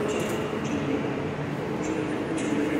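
Koleje Dolnośląskie accelerated passenger train at Wrocław Główny station: a loud, steady rumbling roar of the train moving through the platform, continuous, with faint higher squeaks and clicks now and then.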